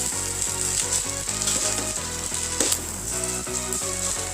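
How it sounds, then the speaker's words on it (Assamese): Rice for veg pulao is stirred in a sizzling pan, rhythmic scraping strokes of a spoon repeating over a constant frying hiss, close and clear. "মিক্স নোহোৱালৈকে ভাতখিনি লৰাই থাকিব লাগিব।"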